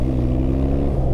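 A BMW R 12 G/S motorcycle's engine roars steadily and loudly while accelerating, a deep throbbing drone held close and continuous for about a second with no voices.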